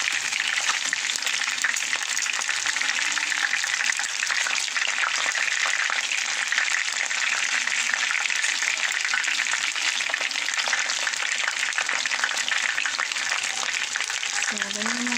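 Chicken frying in hot cooking oil for a crispy outside, a steady dense sizzle that holds evenly loud and close throughout, with no voices over it.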